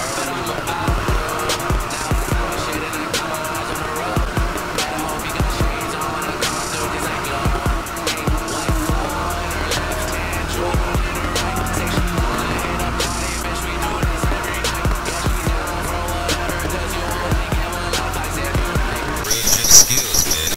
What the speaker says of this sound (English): So we drift around like this.